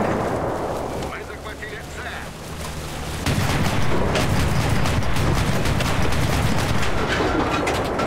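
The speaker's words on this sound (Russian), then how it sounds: "Вот, пулемет." Automatic machine gun fire in the World War II shooter Enlisted, a Pacific battle, erupts as dense rapid bursts after a quieter rumbling stretch, loud and continuous with explosions in the mix.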